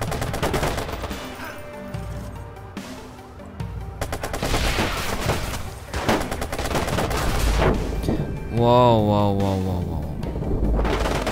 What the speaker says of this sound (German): Stehen hier ordentlich unter Beschuss.